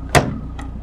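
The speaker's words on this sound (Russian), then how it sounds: "Как видите, дверь самооткрывающаяся." A VAZ 2110 Lada car door pops open on its own with one sharp mechanical clack, followed by a fainter click, close by and with no talk.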